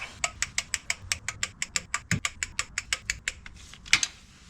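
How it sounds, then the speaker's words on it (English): A torque wrench ratchets in quick, even clicks while tightening the transmission pan bolts on a Mazda CX-5, about twenty close, crisp clicks in a steady rhythm with a brief clunk near the end. "I am now going to tighten the bolts to 96 inch-pounds."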